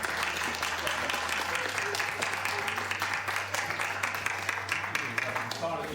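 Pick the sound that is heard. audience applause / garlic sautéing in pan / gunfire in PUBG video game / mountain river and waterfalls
audience applause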